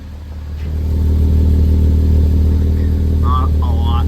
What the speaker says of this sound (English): And hearing it idle first.